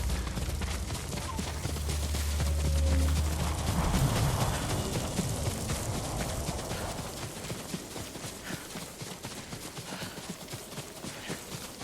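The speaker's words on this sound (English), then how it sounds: "horses. They're coming for us." Horses' hooves clip-clop in a dense, steady drumming as riders approach in the video game Ghost of Tsushima, loud and continuous over a rumbling low background with no talk.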